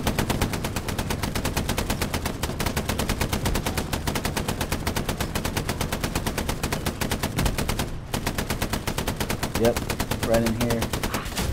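Rapid, steady machine-gun fire in the World War II shooter Hell Let Loose, a dense, continuous rattle of shots that goes on almost without pause, close and loud, with someone speaking briefly near the end.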